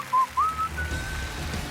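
A person whistles a short, catchy tune from a song, a few clear rising and sliding notes up close, then a long held note fading out over a soft background hiss.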